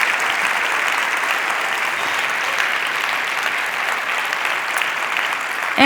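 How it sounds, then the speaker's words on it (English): A large TEDx audience gives a huge round of applause for the event team, a loud, sustained wash of clapping from a big crowd filling the whole stretch without any voices on top. "Would you join me in just giving a huge round of applause to the team?"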